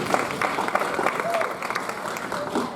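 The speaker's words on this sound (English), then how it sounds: "you can give an applause for that" An audience claps briefly at a talk by the New York City Schools Chancellor, a short ragged burst of applause mixed with voices.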